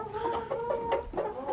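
A rooster clucks in a rapid, repeated run of short calls, close and fairly loud, with other farm fowl faintly around it.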